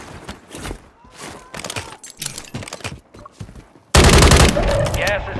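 Heavy gunfire bursts in Call of Duty Warzone, at first broken up under game voice lines, then a loud, sustained barrage of rapid shots in the last second and a half.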